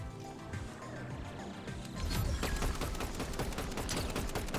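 Gunfire in the Fortnite video game: a steady background din breaks into rapid, dense volleys of sharp shots that continue loudly for the second half.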